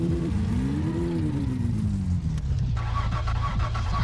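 Engine of an old car in My Summer Car revving and pulling away, its pitch rising and falling as it drives off and a steady low idle hum with faint clatter takes over.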